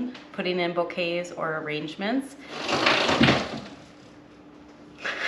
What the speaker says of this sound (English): That was our dog discovering the door stopper.